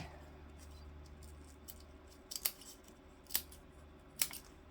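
Scissors snip through fabric for bag sewing, three sharp, close cuts spaced about a second apart over a quiet background hum.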